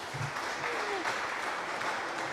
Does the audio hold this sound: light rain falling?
no